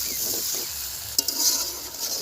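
Elephant foot yam and prawns sauté with salt in a hot pan, a steady sizzle joined by a sharp stirring scrape partway through.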